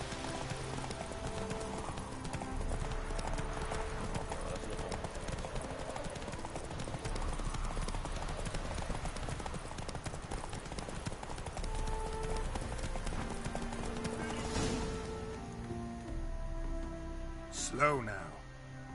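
Horse hooves clip-clop steadily at a gallop in The Witcher 3, a continuous rhythmic beat under game music, with a voice speaking near the end.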